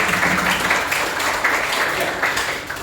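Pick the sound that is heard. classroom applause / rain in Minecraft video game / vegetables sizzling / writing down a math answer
classroom applause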